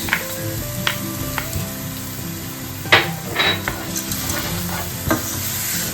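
Onion and garlic hit a splash of oil in a cooking pot, giving a steady loud sizzle and frying hiss, with a few clinks and scrapes of stirring and no one talking.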